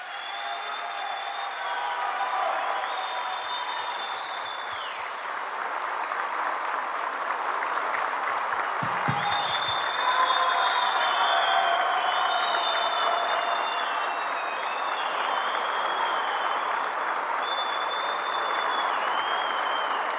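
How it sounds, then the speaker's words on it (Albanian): Strong, sustained applause from a large crowd honoring Qazim Sejdini, a dense even roar of clapping lasting around twenty seconds, with faint high whistling tones drifting above it. "Dua një duartrokitje të fortë për Qazim Sejdinin"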